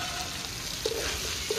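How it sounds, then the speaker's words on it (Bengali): Desi chicken pieces and potatoes fry with spices in a pan, giving a steady, faint sizzle with a couple of brief louder spits of hot oil. "মাংসের গায়ে যাতে ভালো করে মশলা লেগে যায় তার জন্য অল্প সময় মাংসটা ভালো করে ভেজে নেব।"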